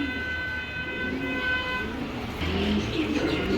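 Racing pigeons coo in low, soft, repeated phrases at close range over a steady, noisy background hum, with the cooing clearest in the second half.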